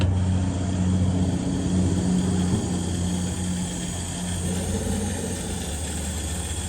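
A Jakadofsky Pro Edition model jet turbine spooling during startup, a steady droning whine with a low tonal hum that holds evenly throughout, loud and close with no voices.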